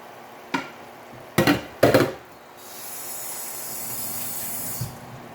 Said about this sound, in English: Now I'm going to let that simmer for about maybe 2 more minutes